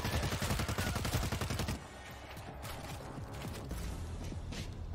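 Gunfire from the zombie shooter World War Z: a rapid, loud burst of automatic shots, then sparser, scattered shots with mechanical clicks.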